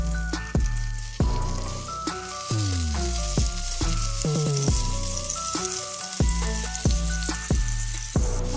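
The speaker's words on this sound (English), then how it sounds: "To a heated pot, we're going to add in our butter. You want your butter to melt." Butter melting in a heated pot gives a bright, steady sizzle with crackles and pops throughout, no voices over it.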